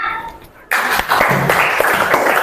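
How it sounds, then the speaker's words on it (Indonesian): In a classroom training session, students break into applause on cue after a teacher's praise. A brief spoken phrase comes first, then a short, fairly loud burst of group clapping fills the rest. "Tepuk tangan."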